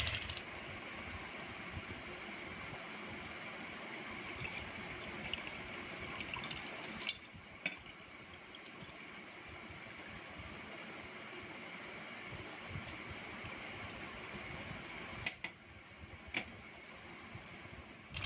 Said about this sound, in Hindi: यहाँ पर आवाज़ सही नहीं आ रही क्योंकि साथ ही ट्यूबवेल चल रहा है